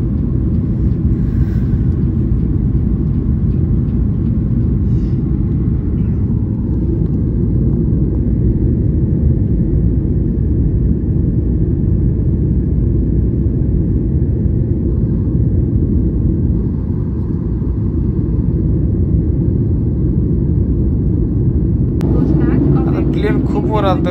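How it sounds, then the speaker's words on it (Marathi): Inside an airplane cabin climbing after takeoff from Chennai, a loud, steady, low engine roar fills the whole stretch without letting up. "आणि एवढी जबर स्पीड घेते विमान"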